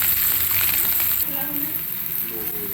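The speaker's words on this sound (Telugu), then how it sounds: "కాస్త ఈ పోపునంతా జస్ట్ ఫ్రై అవ్వనిద్దాము." A tempering of peanuts and curry leaves fries in a pan for rice flour upma, a steady close sizzle that drops slightly in loudness midway, with faint speech underneath.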